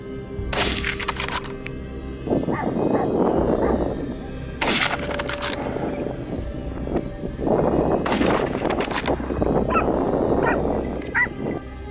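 Gunshots crack repeatedly during a wild boar hunt in Morocco, loud close bursts arriving in three separate volleys, mixed with dogs barking and yelping throughout.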